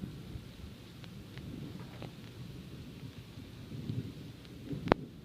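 Thunder rumbles low and distant through a storm, faint and continuous, with one sharper, louder crack near the end.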